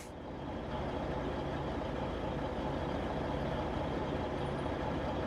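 A truck in American Truck Simulator drives off, its engine settling into a steady, loud low drone with a constant rumble and no talking.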